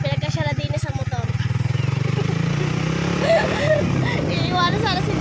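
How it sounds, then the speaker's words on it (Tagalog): A motorcycle crammed with several riders putters along, its engine drone steady and close beneath overlapping chatter and voices from the passengers. "Pinagkasya na din sa motor."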